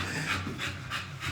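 A dog pants hard and fast close by, a steady run of quick breathy huffs with no talking over it.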